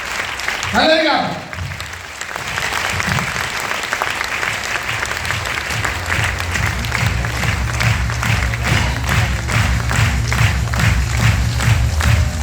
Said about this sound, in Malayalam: നല്ലൊരു ക്ലാപ്പ്